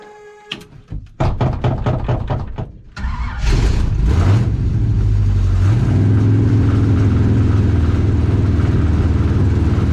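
A 1968 Chevy Bel Air that sat for eight years cranks with a rapid, rhythmic starter chug, then catches and runs loud and close, its idle rising and settling unevenly.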